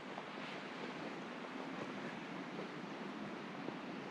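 A creek flows beside an overland trail, giving a steady, unbroken rush of water. The sound is fairly loud and constant, with some wind mixed in and no voices.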